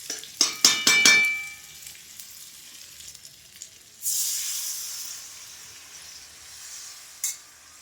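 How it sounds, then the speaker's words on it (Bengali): After a few metallic clanks of a spatula, water is poured into a pan of frying eggs and potatoes, setting off a sudden loud hiss and sizzle that gradually settles. "জল দিয়ে দাও, ভাজা হয়ে গেছে।"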